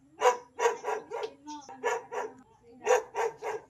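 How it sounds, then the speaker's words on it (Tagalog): A dog barks repeatedly at a home, a run of sharp close barks in quick bursts with a short pause before another cluster, loud and clear with no talking. "Nagising na pala si Lola kasi kahol ng aso."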